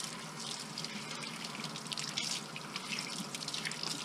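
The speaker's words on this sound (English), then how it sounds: "so we'll rinse this off really good" Running water from a tap splashes steadily while an LED light bar is rinsed off after cleaning, a continuous close hiss with small drips and splatters throughout.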